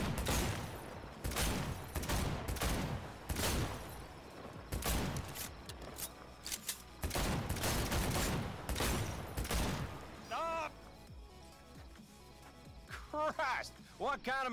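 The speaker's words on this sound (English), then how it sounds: "you will have to take part in a bottle shooting contest to win the Amnesty pistol" Repeated Amnesty pistol shots crack during a bottle shooting contest in the video game Cyberpunk 2077, with loud closely spaced reports and clinking hits, while a person talks over much of the firing.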